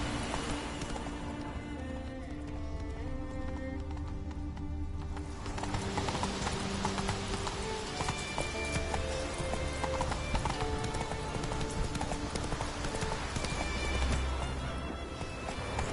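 Roach, the horse in The Witcher 3, moves with steady, close hoofbeats that clip-clop continuously and grow louder after the first few seconds, over a faint background score.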